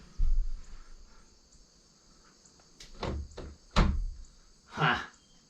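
Front door of a tiny house being worked open, giving a few close wooden thunks and latch clicks spread over several seconds against a quiet outdoor background with faint insect chirping.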